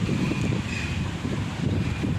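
Cold morning wind blowing outdoors on Ko Khanun island at a Thai temple, a steady rushing gust close on the microphone with low rumbling buffeting throughout and no talk.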